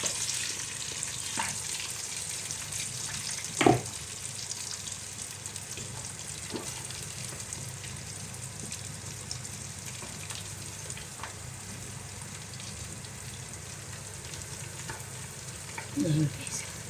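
Chicken wings fry in a pan with a steady crackling sizzle throughout, broken by a few louder pops and spatters and a brief clatter near the end, with no voices.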